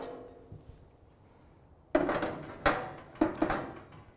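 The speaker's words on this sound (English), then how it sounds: "So we'll just put the grills back in, which are over here" Metal barbecue grills set back into a hybrid charcoal grill: after a quiet stretch, several loud clattering metallic clanks and rattles land in quick succession, close by.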